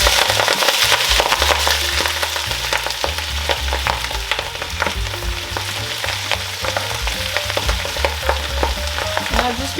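Chopped collard greens hitting hot rendered bacon fat in a pot, a loud, crackling sizzle with sharp pops and spits over a low, steady hum, continuous and close with no talking.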